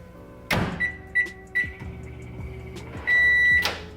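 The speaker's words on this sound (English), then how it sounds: "I'm just gonna heat them up in the microwave for like maybe 15 seconds" A microwave oven: a door thump, a few beeps from the keypad, then the machine hums while running before a final clunk.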